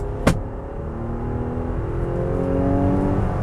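A 2022 Nissan Pathfinder at full throttle, its engine drone rising steadily after a brief sharp knock at the start, a continuous strained hum that climbs and swells in loudness toward the end.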